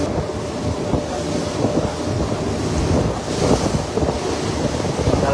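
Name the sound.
sea waves and wind on open sea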